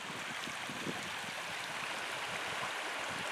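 River swollen by spring flooding rushing under a bridge, a dense, steady roar of flowing water, loud and close, with no voices.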